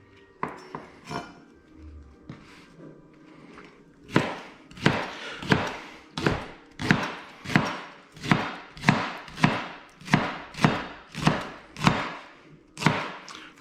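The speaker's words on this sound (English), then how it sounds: "now we're going to rough chop the leek to go along with the onion" A knife rough-chops leek on a cutting board: a few scattered cuts, then a steady run of about a dozen sharp, evenly spaced chops, close and fairly loud with no voice over them.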